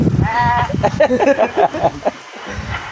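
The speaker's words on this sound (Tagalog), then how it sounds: "Yung kambing na." A goat bleats in a wavering, nasal cry near the start, followed by a few short bleats mixed with murmuring voices nearby.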